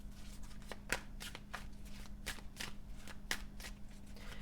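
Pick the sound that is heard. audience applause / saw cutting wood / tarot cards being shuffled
tarot cards being shuffled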